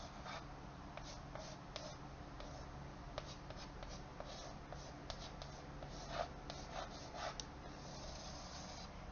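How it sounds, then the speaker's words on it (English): A marker or pen scratches across a board in short strokes and squeaks, faint and close over a steady hum of room noise. "I'm going to write it right here"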